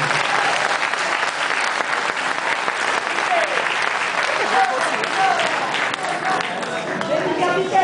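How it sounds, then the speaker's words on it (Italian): An audience applauds steadily and densely throughout, a sustained wash of many hands clapping at close range with crowd noise mixed in and faint voices beneath. "Quindi grazie e un applauso a voi."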